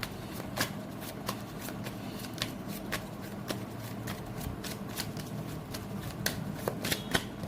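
Tarot cards shuffled by hand, a run of crisp riffling flicks and sharp snaps repeating irregularly at close range, fairly quiet, with no one talking.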